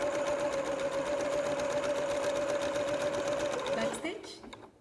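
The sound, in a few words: sewing machine stitching upcycled t-shirt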